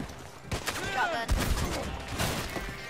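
Shotgun blasts ring out amid a loud, chaotic Red Dead Online gunfight, several heavy shots spaced across the clip over continuous in-game noise and music.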